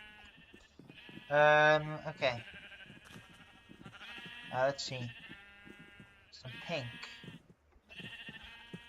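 Sheep in Minecraft bleating, several loud wavering bleats near the start and middle, with a person talking briefly over the gaps.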